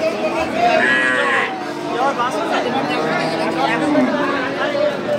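At a busy rural cattle market, a cow with her calf is among livestock whose drawn-out moos rise over crowd chatter, while someone talks nearby.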